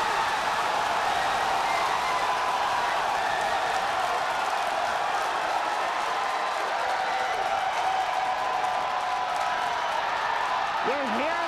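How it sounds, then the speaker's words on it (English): Crowd cheering during a SpaceX Starship test flight launch over the Gulf of Mexico, a steady broadband roar of distant voices filling the whole stretch, with a brief tonal whistle near the end. "You're hearing the cheering."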